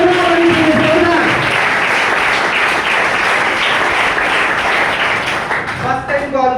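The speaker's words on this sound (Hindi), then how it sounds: "तालियां जोरदार होनी चाहिए, जोरदार।" A crowd at a training event claps hard in a sustained, loud roar of applause, with a speaking voice audible at the start and again as the clapping thins near the end.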